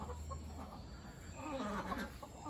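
A large chicken clucks softly at a farmyard coop, a few low quiet clucks against a faint background hum.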